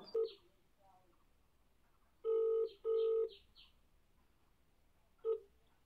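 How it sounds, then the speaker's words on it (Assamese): A few telephone keypad beeps, then two long electronic ringing tones in quick succession and a short final tone, in an otherwise quiet room. "এতিয়া মই ফোনটো লগাইছোঁ আপোনালোকে শুনক"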